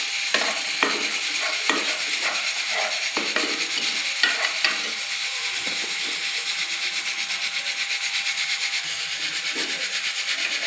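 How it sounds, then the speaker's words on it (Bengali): Whole spices fry gently in oil on low heat as a spoon scrapes and stirs the pan in repeated strokes, then the soft sizzle continues more evenly, close and with no talking. "দেখুন আমি কিন্তু একেবারে হালকা আঁচে ভাজছি"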